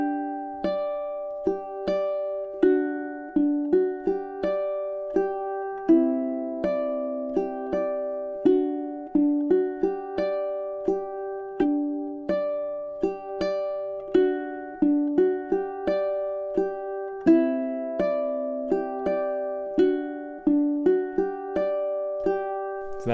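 Solo ukulele plays the intro of a piece, crisp plucked notes and arpeggiated chords in a gentle flowing rhythm, close and clear with no voices.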